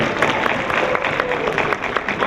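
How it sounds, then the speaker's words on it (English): An audience at a finance student group event applauds their moderator with a steady patter of clapping from a moderately sized crowd, sustained and fairly close. "round of applause to our moderator"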